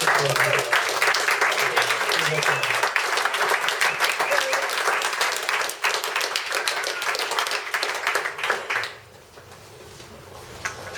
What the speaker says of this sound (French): vous pouvez déjà les applaudir d'être là